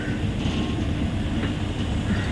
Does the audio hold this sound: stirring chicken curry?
no